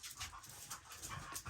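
Dogs panting and whimpering indoors, a steady run of quick breathy pants with faint whines, fairly close and continuous, with no talk over it.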